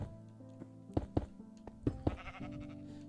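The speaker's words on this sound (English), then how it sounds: "I just want to get this sheep in here." A sheep in the Minecraft video game bleats several times in quick succession, short wavering calls that are fairly quiet and close, with a soft thunk among them and no speech.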